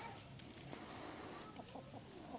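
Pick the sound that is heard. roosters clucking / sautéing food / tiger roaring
roosters clucking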